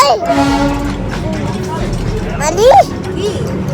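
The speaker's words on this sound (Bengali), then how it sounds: "কি চড়ছো এটা? Toy train." The Darjeeling toy train rumbles along its mountain line with a low, steady running noise close by, while voices talk prominently over it.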